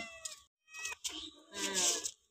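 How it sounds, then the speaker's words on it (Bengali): A domestic cat meows several times in short, bright calls, with gaps of near silence between them, heard up close in a home kitchen while mourala fish is being prepared. "তাহলে ম্যাওকে দিয়ে দিই সব মামগুলো"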